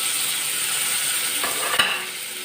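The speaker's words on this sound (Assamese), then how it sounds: "বিলাহীখিনি ভালদৰে ভাজি ল'ব, যাতে ভালকৈ সিজি যায়।" Chopped tomatoes fry in a pan for an Assamese fish and brinjal curry, giving an even, fairly loud sizzle with one sharp scrape of a spoon against the pan.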